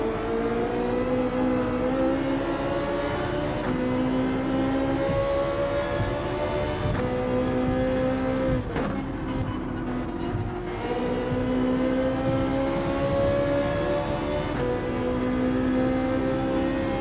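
Race car engines in Gran Turismo 7 drone loud and steady, holding high sustained notes that shift pitch with gear changes as several cars run close together on track.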